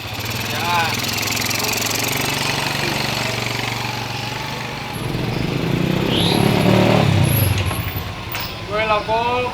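Motorcycle engines rumble and rev close by on a street, swelling louder midway while people talk over them.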